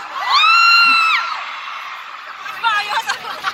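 A large concert crowd of about 14,500 in Riyadh yells and cheers, a loud sustained whoop followed by a quieter stretch and then scattered shouts rising again.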